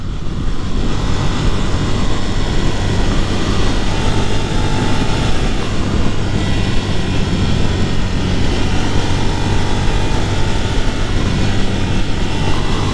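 A 2022 Ducati Nightshift motorcycle engine held steady around 6,000 rpm in fourth gear while riding, giving a loud, continuous droning hum with strong low harmonics and heavy wind rush throughout, with no talking.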